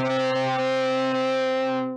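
A single sustained instrument note rings for two seconds with a thick, buzzy, harmonically dense distorted tone, then cuts off abruptly.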